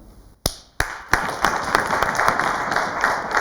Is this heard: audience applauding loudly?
yes